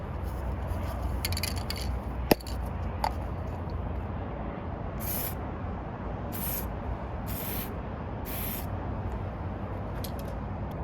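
Cheap flat black enamel spray paint hissing from an aerosol can in short bursts, several spaced sprays over a steady background noise, fairly close.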